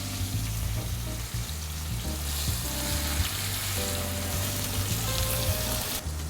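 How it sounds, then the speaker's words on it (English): Lamb shoulder sears in about three tablespoons of extra virgin olive oil, giving a loud, continuous close sizzle and crackle that holds steady throughout. "we are going to add about 3 tablespoons of olive oil, extra virgin olive oil, and sear our lamb shoulder on all sides"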